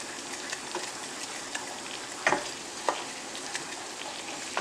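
Dijon mustard sizzling in a hot pan, a soft continuous frying hiss with a few faint crackles and pops, nearby and alone.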